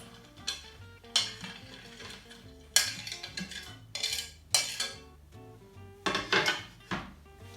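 Walnut cake batter stirred in a bowl, a series of sharp utensil clinks and scrapes against the bowl in an irregular rhythm, close and fairly loud with no talk.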